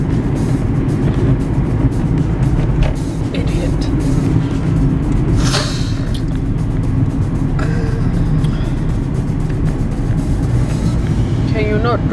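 A car on the move, with steady low engine and road rumble filling the interior throughout, while people talk over it.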